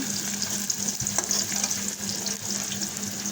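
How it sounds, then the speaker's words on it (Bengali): Snacks frying in hot oil in a wok, giving a continuous close sizzling hiss with small bubbling crackles throughout and no talking. "তো দেখো আমি ভাজাগুলো বসায় দিলাম"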